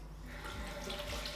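Water runs steadily from a bathroom tap during a face wash, a continuous close hiss and splash with no voices.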